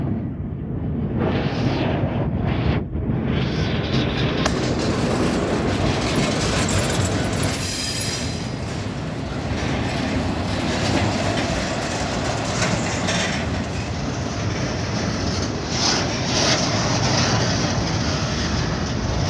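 A long CSX freight train rolls past in a Jacksonville rail yard, a loud, continuous rumble and rattle of wagons with rhythmic clatter, steady and close throughout with no talking.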